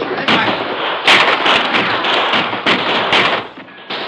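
Sustained gunfire in an old radio drama's stockade battle: a dense, loud stream of shots and sharp cracks overlapping continuously, with periodic heavier bangs standing out.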